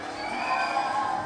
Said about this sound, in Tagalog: palakpakan ng may kasama sigaw